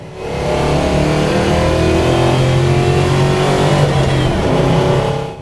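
A powerful 1966 Beaumont V8 engine, 283 crank with a 400 block, revs loudly nearby, its deep rumble rising and holding steady with no talking over it.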